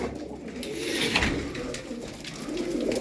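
Van pigeon wings flap in quick, fluttering bursts close by, with soft cooing and rustling in the background.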